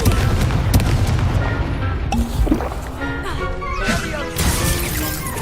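Spell-casting effects from a Harry Potter–style video game, including fiery Confringo explosion blasts, a dense run of booms, crackles and crashes layered with game sounds over a steady loud background, with a voice calling out spells.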